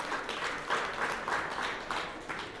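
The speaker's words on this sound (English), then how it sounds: "So a round of applause for that." A credit union annual meeting audience breaks into applause, a continuous, even patter of many hands clapping at moderate volume, heard from somewhat farther back in the room.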